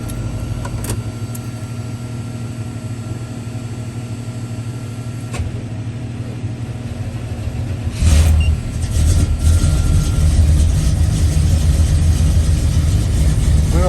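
A Chevy C10 pickup truck, boosted after a no-start, quiet at first with faint clicks, then its engine catches at once and settles into a loud, steady idle that runs close by.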